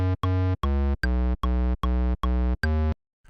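Synth sub bass notes pitched too high, played as a run of eight short, evenly spaced tones with a sharp stop between each, loud and isolated, the last note followed by silence.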